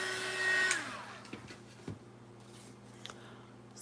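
A hand dryer or heat tool is drying a coat of paint on a paper-bag craft, giving a steady, close motor whir with a steady hum that runs through the whole clip. A descending whine sounds near the start.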